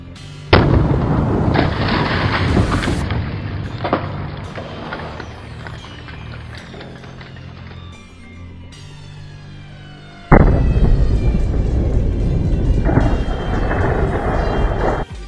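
An airsoft Thunder B sound grenade goes off with a sharp loud blast that rolls into a long rumbling tail, followed by a second heavy burst of similar booming noise.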